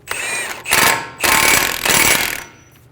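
Ratcheting wrench snugging an axle nut onto the front hub of a 2003-2008 Honda Pilot, three close, loud bursts of rapid clicking separated by short pauses.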